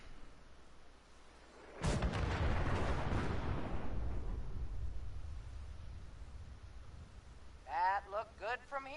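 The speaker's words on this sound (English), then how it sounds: "Those explosions are beautiful." A single big artillery explosion from the Fallout 4 game erupts loudly at about two seconds and rumbles away over several seconds, followed near the end by a person talking.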